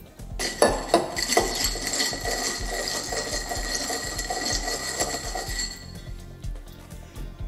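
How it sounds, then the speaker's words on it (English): Bar spoon stirring a Bramble cocktail of gin, lemon juice and simple syrup in a glass, a rapid run of close metallic clinks and rattles that goes on for several seconds, then fades out, with no voice. "I stir it."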